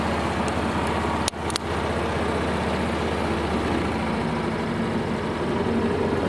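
A vehicle called WALL-E drives up a road in first gear, high range, giving a steady low engine rumble and road noise throughout, with a couple of brief knocks near the start.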